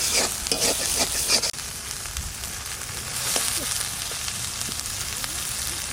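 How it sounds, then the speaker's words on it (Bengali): Spice paste with salt and turmeric sizzles steadily in a pan for a bitter gourd curry, with stirring scrapes early on and a continuous close frying hiss throughout. "মশলাটাকে ভালো করে কষাবো"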